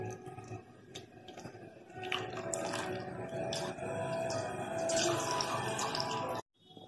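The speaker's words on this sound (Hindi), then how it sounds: "इसका सारा पानी हम निकलने देंगे।" Water drains and drips out of strained, cold-rinsed noodles, a close, irregular patter of trickles and splashes that builds over several seconds and stops abruptly.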